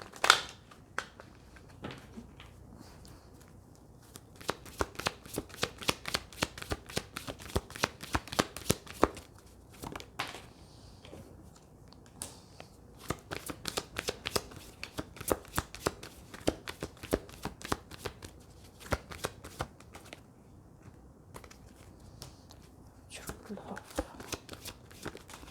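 Tarot cards being shuffled in quick, rapid riffling bursts that repeat through most of the stretch, close and fairly loud, with short pauses between runs and occasional faint speech in French.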